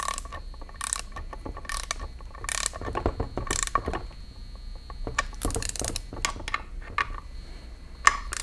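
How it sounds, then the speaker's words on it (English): Digital torque wrench tightening bolts on a Jeep T176 Tremec four-speed toploader transmission: repeated rapid ratcheting clicks in bursts of several seconds, close and crisp, with no talk. "What's good about these digital wrenches is I can look at it as it gradually brings the bolts down."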